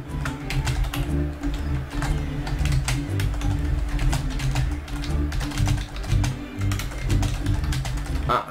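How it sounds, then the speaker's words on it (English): Typing on a computer keyboard, rapid irregular clicks and taps in bursts close to the microphone over a low background hum, without speech. "sorry for all the typing"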